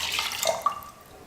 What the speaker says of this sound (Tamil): 4 கப் அளவுக்கு தண்ணி சேர்த்துக்கிறேன்